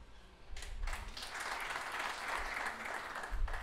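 A live comedy show audience gives a short burst of lively clapping, building quickly and holding for about three seconds, fairly loud and close, with a few thumps.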